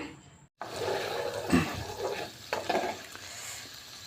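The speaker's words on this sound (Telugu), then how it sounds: "ఈ గిన్నెలో ఇప్పుడు మనం దీంట్లో వేసుకొని నెయ్యిని అయితే కరగబెట్టుకుందాం" Butter melting in a pot to make ghee, a soft close bubbling and faint sizzle after a short silence, with a few louder stirring scrapes and clinks.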